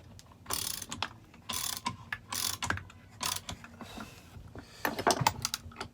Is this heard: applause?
no